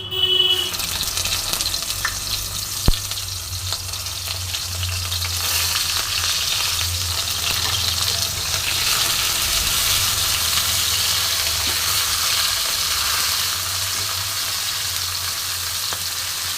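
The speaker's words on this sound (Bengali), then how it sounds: "যাতে পাপড়িগুলো খুলে না যায়, সেজন্য একটু আস্তে আস্তে ধরে ধরে ভাজতে হবে বন্ধুরা।" Cabbage florets deep-frying in hot oil for a cabbage bori dish: a steady, dense sizzle holds throughout, with one sharp tap near the start and a low hum beneath.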